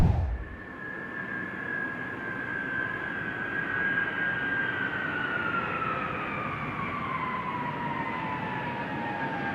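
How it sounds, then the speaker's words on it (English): A retired Air Force airplane on its last flight roars steadily overhead, a sustained loud engine drone with a slowly falling whine that persists throughout, with no talking. "We're bringing this airplane here."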